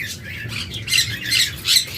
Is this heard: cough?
no